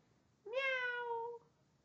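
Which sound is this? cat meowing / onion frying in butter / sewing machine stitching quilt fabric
cat meowing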